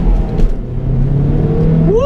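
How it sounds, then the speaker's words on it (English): A Mazda 3 MPS hatchback pulls hard through first and second gear, its engine note rising as a loud, close drone and climbing again in pitch after the shift near the end. "So a little first and second gear pull for us."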